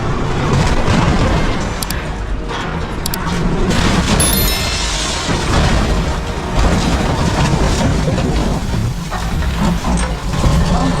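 A car crashes through a store window, a loud sustained roar of engine, impact and shattering debris with sharp clattering transients near the start.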